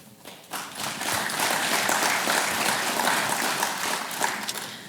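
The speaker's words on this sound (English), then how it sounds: "you guys keep clapping" An audience at a construction awards ceremony applauds in a hall, a dense, loud, sustained wash of clapping that swells quickly and holds steady for several seconds.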